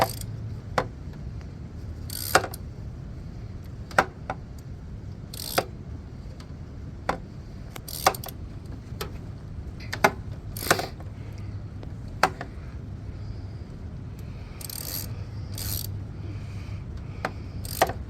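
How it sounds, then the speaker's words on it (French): A ratchet wrench clicks in short, irregular bursts while work is done on a Honda Civic D17 engine, sharp close ticks over a low steady background hum. "Regarde-moi le ratchet."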